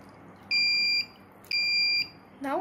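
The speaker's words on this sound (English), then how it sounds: "now it is ringing. This shows that the water is almost full and we have to stop to fill the water." A Raspberry Pi water level monitor with an ultrasonic sensor sounds its alarm as the bucket fills: two loud, shrill electronic beeps about half a second each, separated by a short pause, with a watery splash at the end.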